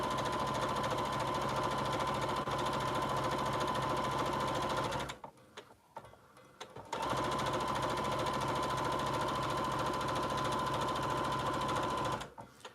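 Sewing machine running a 1/4 inch seam on quilted sling bag pieces, a loud steady whirring stitch that stops briefly for a couple of seconds, then resumes and stops again near the end.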